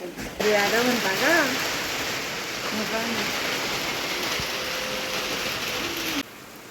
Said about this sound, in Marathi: डेंजर पाऊस आहे.